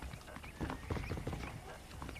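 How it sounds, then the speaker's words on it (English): Horse hooves clip-clop steadily in the video game Red Dead Redemption 2, a continuous close gait with dense rhythmic steps over low ambient rumble. "The horses are saddled up over here."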